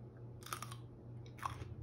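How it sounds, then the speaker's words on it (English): A fresh mini cucumber gets two crisp, close bites with brief chewing crunches between them, quiet and alone against faint background hum. "I'm going to have my fresh mini cucumber."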